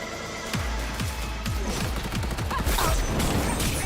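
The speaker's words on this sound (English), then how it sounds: "Turrets! Fire them up!" Rapid bursts of turret gunfire in a video game, a quick series of sharp repeated shots with mechanical clatter, fairly close and steady, heard alone without talk.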